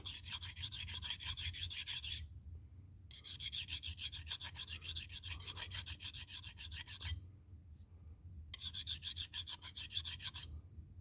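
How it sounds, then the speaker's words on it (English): Hand file lightly stroking the back of an engine rod bearing for aluminum rods in a blower engine, rapid rhythmic rasping in three bursts separated by short pauses, close and loud with no talk. "Take a file and just lightly catch the back of this bearing, lightly."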